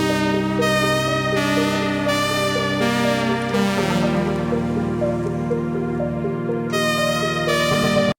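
Synth lead and arpeggio, bright pulsing arpeggiated tones in rhythmic bursts over sustained low bass notes, full and loud, with no talking.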